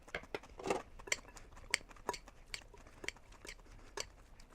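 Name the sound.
mixing homemade coleslaw in a bowl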